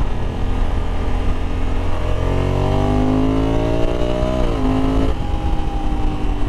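Honda Africa Twin 1100 adventure motorcycle (2021, DCT) ridden in sport mode, loud steady engine drone with rising pitch as it pulls through a gear, a quick shift, then a lower held tone, with wind noise throughout.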